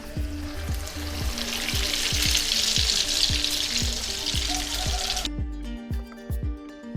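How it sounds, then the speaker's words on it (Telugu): Eggplant slices deep fry in hot oil with a dense, steady sizzle and crackle, close up, ending with a few quiet clinks. "ఇది గోల్డెన్ బ్రౌన్ వచ్చే వరకు వేయించుకుందామండి"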